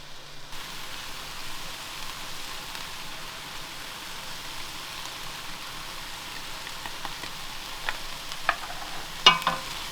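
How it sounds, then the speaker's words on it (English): Curry made with hot curry seasoning mix sizzles softly in a pan aboard a canal boat, a faint, steady frying hiss with a few brief scrapes and clinks of stirring toward the end. "Give that a good stir."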